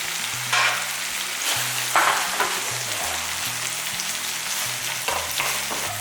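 Onions and tomatoes fry in a pan for a curry leaf, coriander and mint thokku, an even crackling sizzle under irregular scraping stirs, close and without speech.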